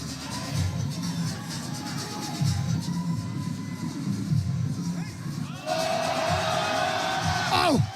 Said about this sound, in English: The UK crowd, obviously, cheering for Ade, cheering for Jurins